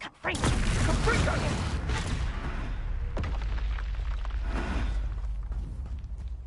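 Fire-blast spell explosions in Hogwarts Legacy: a heavy booming blast followed by a sustained rumbling roar with further thuds, as a voice talks over the din.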